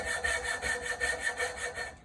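A hand saw cuts back and forth through a piece of wood clamped in a vise, making steady rhythmic rasping strokes, close and clear with no talking.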